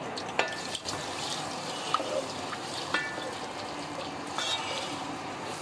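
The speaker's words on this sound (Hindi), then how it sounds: "एक बड़ी प्याज हम इसमें डालेंगे और प्याज को ब्राउन कर लेंगे" A large onion frying in hot oil in a pot, a soft continuous sizzle punctuated by a few sharp clinks and scrapes of stirring, heard close with no voices.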